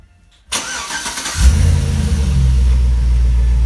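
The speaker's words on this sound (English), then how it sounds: "Parking lights flash, and the engine will crank." A 2003-2007 Chevy Silverado engine is remote-started with a Viper 5305V system: a short click, a second of starter cranking, then the engine catches and settles into a steady, close, rumbling idle.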